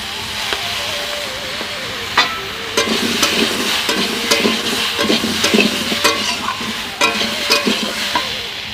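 Mixed vegetables with soybean chunks, turmeric and oil sizzle loudly in a pan while a spoon stirs and scrapes in a quick, uneven rhythm, close and unaccompanied.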